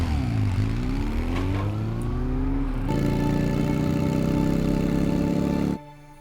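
A motorcycle engine revs up and holds a steady, loud drone with a rising then settling pitch, cutting off abruptly near the end.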